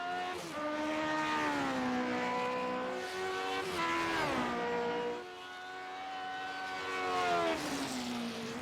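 Race car engine roaring at Silverstone in the iRacing sim, a loud sustained drone whose pitch climbs through the gears, drops sharply on a downshift near the middle, then rises again, with no talk over it.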